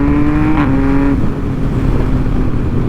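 A new motorcycle with a quick shifter accelerates hard, its loud, close engine tone climbing and then dropping briefly as a gear changes without the clutch. The engine drones steadily after the shift, with no talk.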